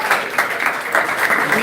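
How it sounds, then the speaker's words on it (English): Scattered, moderately loud clapping from a classroom audience, with individual claps distinct in a loose rhythm for under two seconds. "please, a round of applause for Gilead once again"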